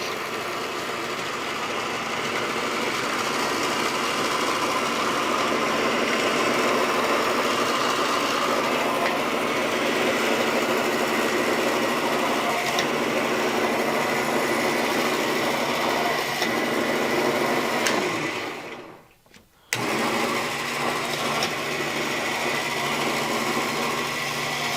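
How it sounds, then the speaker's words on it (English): An electric winch drags wire through a draw plate to make pins and fibulae, giving a loud continuous mechanical drone with a rattling edge that cuts out briefly near the end before resuming. "So I have another pair of pulling pliers attached to this electric winch"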